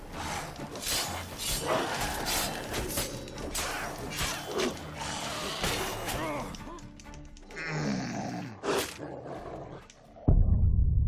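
Dogs growl and snarl in The Witcher 3: Wild Hunt video game, with rough grunting bursts over a busy fight, some clattering, and a loud thump near the end.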